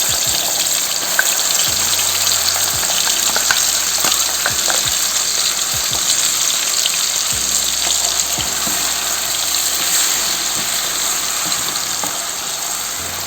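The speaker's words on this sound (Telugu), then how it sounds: "ఈ పేస్ట్ని కొద్దిగా వేగనిద్దామండి" Onion and masala paste frying in a pan for Madras-style king fish curry makes a continuous, even hiss that stays close and fairly loud throughout, with no talk.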